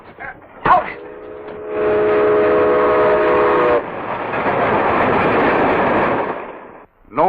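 Radio drama sound effect of a train: a sharp bang, then a loud steady rumble of rolling cars with a whistle tone, running on in a long roar before fading, with brief voices at the edges.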